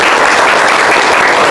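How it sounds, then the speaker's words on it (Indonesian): A crowd claps together in a loud, dense burst of applause that stays steady throughout, close and enthusiastic. "Tepuk tangan."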